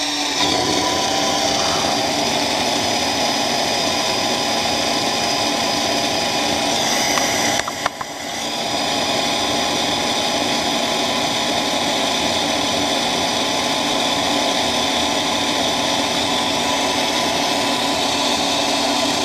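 Several Tomy Turbo slot car motors, including a narrow-chassis SRT, spinning steadily at similar speed, a constant whirring buzz held close and loud with a brief dip midway.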